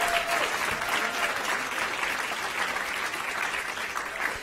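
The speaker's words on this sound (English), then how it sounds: "Let's give our elementary school winners a round of applause." Audience applause for elementary school award winners at a school ceremony, a steady dense wash of clapping that holds at an even level throughout.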